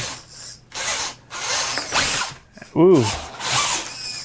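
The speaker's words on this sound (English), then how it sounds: "you can hear the gears in the axles and everything" Metal gears in the axles and transmission of an Axial Capra RC rock crawler whir and grind in repeated close bursts, with a rising and falling motor whine partway through and a brief exclamation from a person.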